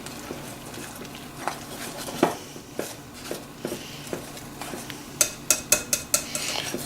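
Melted unsalted butter being stirred into popover batter, a utensil clinking rhythmically against a bowl in regular taps that quicken into a rapid run of scrapes and knocks near the end.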